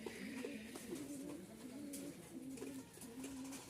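Pigeons coo repeatedly inside their coop, a low rolling call recurring in steady phrases close by, with soft rustling and no talk.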